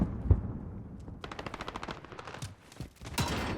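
Rapid automatic gunfire rattles through a competitive shooter video game match, with quick bursts of shots followed by a sharper volley near the end, all at moderate loudness and without talk.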